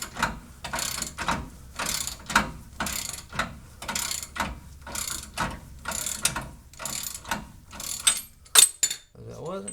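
A ratchet wrench backs off the tension on a coil spring compressor during front-end work on a second-generation Camaro, its clicking pawl sounding in rapid, regular bursts of strokes close by, with brief pauses between swings.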